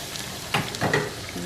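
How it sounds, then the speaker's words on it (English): Tomatoes tipped into a large, sizzling pot of beef chili, a brief close splash and stirring scrape over a steady fry. "I'm going to go ahead and add in my tomatoes."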